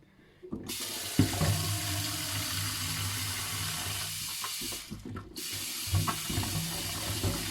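River snails are washed in a sink under running tap water, a steady close rush of water with a brief pause partway, plus clattering and sloshing as the shells are stirred by hand.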